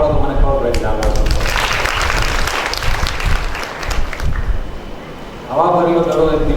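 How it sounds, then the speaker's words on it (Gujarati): A lecture audience in a hall breaks into sustained clapping, a dense wash of applause filling most of the moment, with a voice speaking before and after it. "જાગો તો તાળીઓ પાડો તો મને ખબર પડે જાગો છો"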